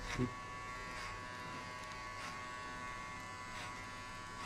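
Electric hair clipper buzzing steadily at low volume, cutting a high fade below a set guideline, a continuous hum with faint pulses and no talk over it.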